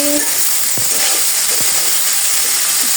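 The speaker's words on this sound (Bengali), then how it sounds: "আলু ভেজে নিচ্ছি" Potatoes frying in a home kitchen pan, a steady hiss running throughout with a few soft stirring clinks, close and fairly loud with no talking.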